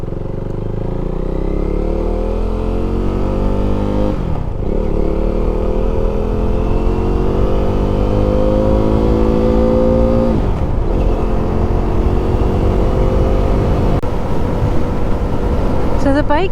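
A motorcycle loaded with camping gear on the back cruises along the road, its engine droning loud and steady through several gear shifts with rising pitch, wind rushing throughout.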